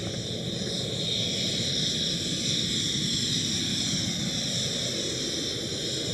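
An airliner in German Airways chocolate livery rumbles steadily at Amsterdam Schiphol, a loud, continuous engine roar with a high whine on top and no break.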